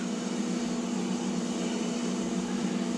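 An electric stand mixer whirring steadily as it mixes flour, lard and butter for hot water pastry, a constant motor drone with an even mechanical hum, close and uninterrupted, no voices.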